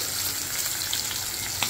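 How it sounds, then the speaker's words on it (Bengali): Fish fries in a pan with a continuous bright hiss and crackle, close and steady, with no talking. "দেখি মাছ কতটুকু ভাজা হইলো"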